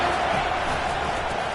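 Loud, steady stadium crowd roar from a football video game on a third-down play, a dense wash of cheering that holds at full level throughout with no break.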